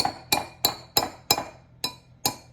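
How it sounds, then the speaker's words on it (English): A metal whisk strikes the side of a bowl of cream cheese in a steady rhythm, seven sharp clinks spaced evenly apart, close and fairly quiet. "I'm going to crack out my whisk, and we're going to start whisking this."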